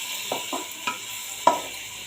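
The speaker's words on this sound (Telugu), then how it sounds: "ఇప్పుడు కొంచెం పసుపు వేద్దామండి. బాగా వేయించుకున్నాము." Bitter gourd frying with onions and turmeric in a pan: a soft steady sizzle broken by a few sharp spoon taps and scrapes against the pan, close and moderately quiet.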